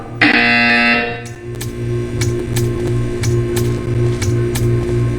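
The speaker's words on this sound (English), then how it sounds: "You will hear a buzzer." A steady electronic buzzer from the video game Portal 2 drones continuously under a low hum, with faint regular clicks ticking through it.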